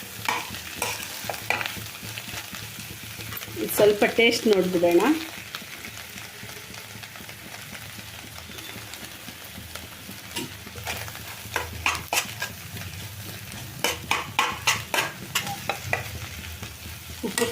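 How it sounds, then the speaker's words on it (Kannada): Tempering sizzles and is stirred in a pan for basale greens saaru. Brief sharp frying bursts and scraping strokes come close by, and a voice speaks briefly. "ನಾನು ಸಾರಿಗೆ ಒಗ್ಗರಣೆ ಹಾಕ್ಕೊಬಿಡ್ತೀನಿ"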